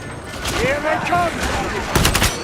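Video game firefight with bursts of gunfire over sustained combat noise and a faint whistling tone, a sharp loud volley near the end; voices talk under the action.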